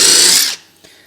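A Ryobi 18V brushless impact wrench hammering hard on a wheel nut, a loud close burst of rattling impacts that stops abruptly after half a second, leaving a faint clack.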